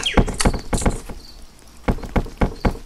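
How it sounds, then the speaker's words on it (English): Footsteps of people crossing bridges in a video game: a series of hollow, wooden thunks in an uneven walking rhythm, fairly close and distinct, with a short pause midway and no talking. "that's the sound of people walking on bridges"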